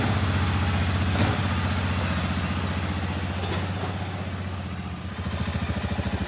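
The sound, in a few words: Arctic Cat 400 ATV engine running after rebuild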